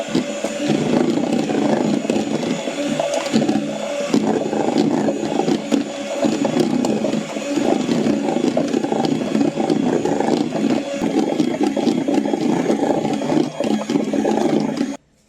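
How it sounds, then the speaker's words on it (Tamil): An electric mixer beats batter tinted with red food colour at slow speed, a loud steady whirring drone that runs close-up and without talk, then cuts off at the end. "சேர்த்துட்டு ஸ்லோ ஸ்பீடில் வச்சுட்டு இதை நல்லா பீட் பண்ணிக்கலாம்."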